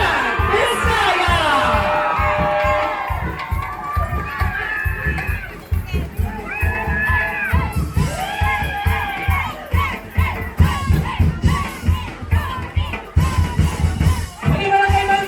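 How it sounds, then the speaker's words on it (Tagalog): Rally crowd in Pasig City cheering, whooping and shouting loudly for a mayoral candidate, a continuous dense roar with rising bursts of yelling and applause running throughout, close and full. "isang malakas na palakpakan ay kasamang hiyawan"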